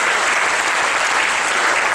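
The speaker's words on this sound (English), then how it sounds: "Somebody give him a hand clap of praise this morning" A church congregation bursts into a hand clap of praise during a morning sermon, with dense, steady clapping from many hands holding an even level throughout.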